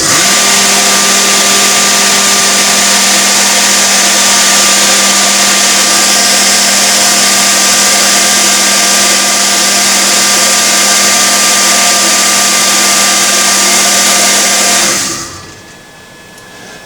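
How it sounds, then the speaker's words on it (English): A CNC router's vacuum table pump runs as a loud, steady, high-pitched whine and roar for about fifteen seconds, then shuts off abruptly and spins down to near quiet. "The vacuum's going to make some noise."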